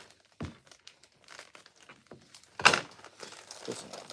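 Crinkling of a plastic poly mailer bag as scissors cut through it for packing an order, with crisp crackles, a soft thump early on, then a loud crunchy burst of crumpling partway through, close to the mic.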